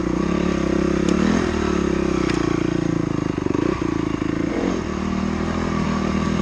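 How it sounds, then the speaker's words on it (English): A two-stroke dirt bike engine lugs at low revs on a trail, a steady loud throbbing drone with slight surges and some clatter, continuous throughout with no talking. "See me lug that motor a little more. 2-strokes can do that really well."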